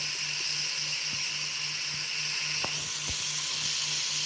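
Cubed beef skirt steak frying in a pan, a steady close hiss and sizzle with faint low ticks and pops scattered through, no talking.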